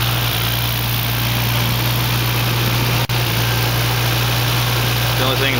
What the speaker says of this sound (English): You can see it idles nice and smooth.